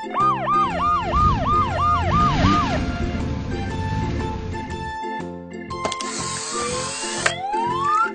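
A black police car's siren sounds in quick, repeated wailing sweeps at the start, backed by a bouncy children's music track.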